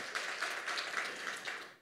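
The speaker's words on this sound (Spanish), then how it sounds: "Gracias por el aplauso, si es para Dios." Faint, brief applause from a church audience, a soft patter of clapping that fades away after a couple of seconds.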